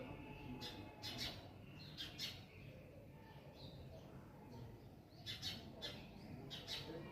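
Sparrows nesting in a home garden let out short, faint chirps in scattered bursts over a quiet outdoor background.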